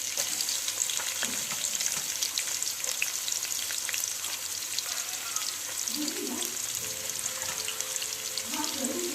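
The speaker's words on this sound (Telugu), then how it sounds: "నూనెలో ఉల్లిపాయ ముక్కలు, ఒక ఉల్లిపాయ, ఒక 5 పచ్చిమిరపకాయలు అట్లా స్టవ్ మీద నూనెలో వేసేసుకోవాలండి" Onion pieces and five green chillies frying in hot oil on a stove, a steady close hiss of sizzling throughout with occasional clatter of stirring, no talk.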